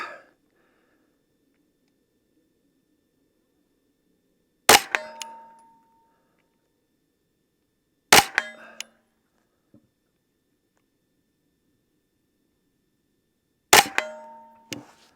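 Three sharp, loud shots from an S&W FPC 9mm carbine, spaced several seconds apart, each followed by a brief ringing echo, with quiet between them.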